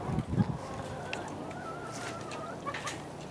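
Chickens cluck nearby in short, scattered bursts, with a couple of louder low clucks at the start and softer calls after.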